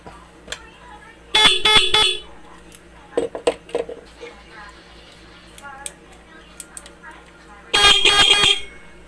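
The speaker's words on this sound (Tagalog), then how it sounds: "Try natin na patunogin naman tong isa para ma-compare natin yung tunog nila." A loud motorcycle horn, just repaired, blares twice in bursts of about a second, separated by clinks and rattling handling noises up close.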